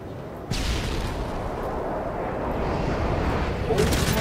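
A heavy explosion booms in a Call of Duty match, a sudden loud blast followed by sustained rumbling game noise and a second burst near the end.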